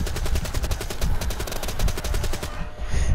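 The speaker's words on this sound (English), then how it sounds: "sound of a gun is glitching out" Rapid automatic gunfire from Call of Duty Black Ops III's Dead Ops Arcade 2, glitching into a dense, stuttering stream of close, loud shots for about three seconds without a pause.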